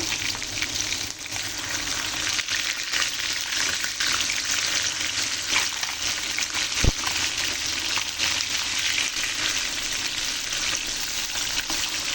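Mirka fish pieces and vegetables such as potato, radish and tomato fry in a hot pan for a fish curry, a steady loud sizzle throughout with a brief clatter midway, no talking.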